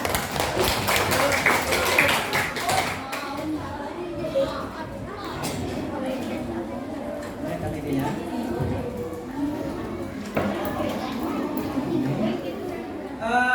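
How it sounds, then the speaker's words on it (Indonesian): A school class breaks into quick clapping, strongest in the first few seconds, then fades into scattered taps and chatter around the classroom. "oke, tepuk tangan"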